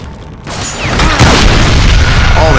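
A dynamite explosion in the Western shooter game Call of Juarez: Gunslinger, a loud booming blast that starts abruptly and rolls on as dense rumbling debris noise for a couple of seconds.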